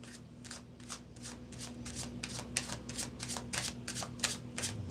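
Tarot cards being shuffled in rapid, steady riffling bursts that repeat throughout, close and fairly quiet over a low steady hum, with no talk.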